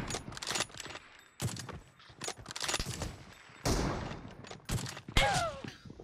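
Gunfire in the mobile battle royale PUBG Mobile, with bursts of sharp shots in uneven clusters, some near and loud, others softer, separated by brief lulls with a faint voice now and then.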